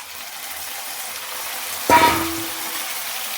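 Marinated chicken and its water are tipped into a pan of sizzling onion stalks, setting off one sudden loud hiss that flares up and then settles into a steady frying sizzle.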